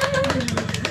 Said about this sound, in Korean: 박수 클랩 클랩